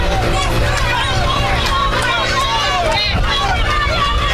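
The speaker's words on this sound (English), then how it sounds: "The spectators is cheering him on." Crowd of spectators cheering and chattering at a BMX relay road race, a steady, loud hubbub of many voices filling the whole stretch without pause.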